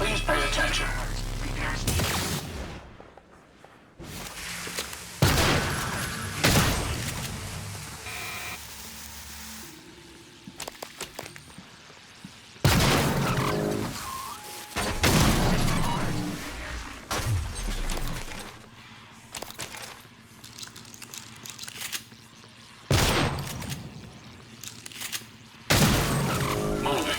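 Sustained weapon fire in the sci-fi game Prey (2017) aboard a space station: repeated loud bursts of shots and crashing impacts come in waves separated by short quieter gaps, with occasional voices and mechanical clanks between them.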